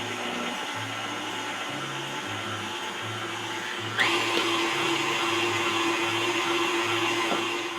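A kitchen mixer whirs steadily while milk and butter are blended for a meatless pot pie filling, rising to a louder, fuller whir halfway through over faint background music, with no talk.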